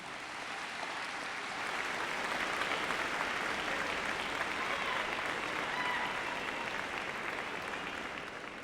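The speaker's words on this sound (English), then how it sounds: "Seniors, please give all your guests, the people who helped you get here today," A commencement audience of seniors and guests at Northern High School's 50th graduation applauds steadily, a dense wash of clapping that swells after the first seconds and holds loud and even to the end.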